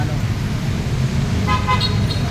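Road traffic passes beside a work site during a rainy break, a steady roar of motor vehicles close by with a couple of short car horn toots near the end.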